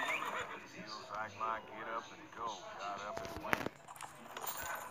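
Horse neighing in the mobile video game Six Guns, several loud whinnies up close mixed with hoof clip-clops, while someone talks over them.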